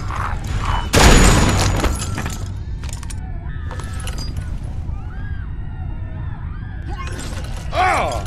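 One loud gunshot blast with a shattering crack in The Walking Dead: 400 Days, Vince's story, followed by lingering noise, sirens and tense game ambience.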